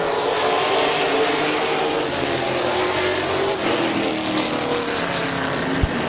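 Race cars roaring around Midvale Speedway as a restart follows a caution, a dense, continuous engine drone from the pack, loud and close, holding steady throughout with a short sharp knock near the end.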